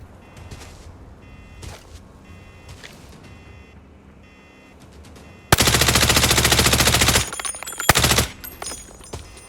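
In the shooter game Arena Breakout, a few faint distant shots sound first, then a loud, close sustained burst of automatic fire lasts almost two seconds, followed by a couple of quick shorter bursts.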